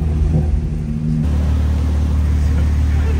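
A BMW G80 M3 driving through a tight street in St. Tropez, a steady, close, low engine rumble that shifts tone partway through as the car rolls on.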